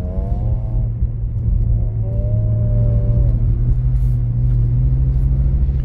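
A BMW drifting uphill on snow revs low and steady, a loud continuous engine drone with gentle pitch rises as the throttle is eased, close up and without speech.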